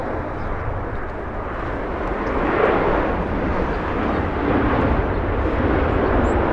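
A passenger plane landing at Los Angeles International Airport, arriving from Salt Lake City, gives a loud, continuous broadband engine and air roar that swells slightly midway and holds steady, with no talk.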